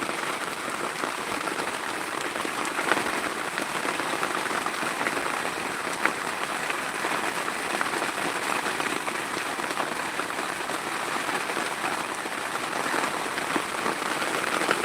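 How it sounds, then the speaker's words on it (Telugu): Heavy rain pouring down in a village in Anantapur district, a dense, even hiss of drops striking surfaces that stays loud and unbroken throughout, with no voices. "భారీగా అయితే వర్షం వస్తుంది"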